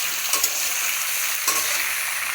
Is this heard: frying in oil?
yes